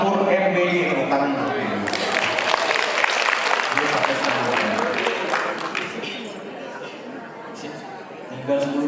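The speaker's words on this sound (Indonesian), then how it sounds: "Dapur MBG, tepuk tangan." Seminar audience at an Indonesian small-business mentoring event bursts into a round of clapping amid chatter and voices, dense applause swelling mid-clip and fading as talk resumes.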